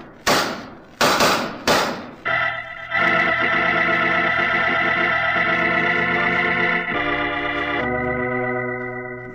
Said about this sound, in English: Following that exchange of shots, Roger Prescott died